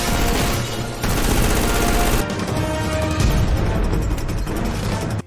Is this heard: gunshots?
yes